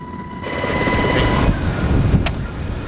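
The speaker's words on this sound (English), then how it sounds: "We're grateful to the Coast Guard, to Chief Brandon Brewer in particular, for the helicopter tour" Coast Guard helicopter in flight, a loud steady rotor and engine roar filling the cabin, with a brief sharp noise near the end and no speech.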